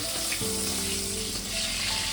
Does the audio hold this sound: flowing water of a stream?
no